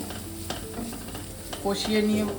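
Spices and salt being sautéed in a pan for milk pomfret curry, a low sizzle under scraping stirs that grow louder and busier toward the end of the short stretch.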